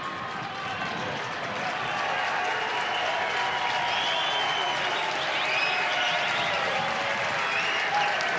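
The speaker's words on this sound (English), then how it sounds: "New goalie for Virginia. Kyle Morris takes over for Matthew Nunes, hence the applause." Crowd applause fills a college men's lacrosse game stadium, a broad steady roar of clapping that swells slightly and carries on throughout.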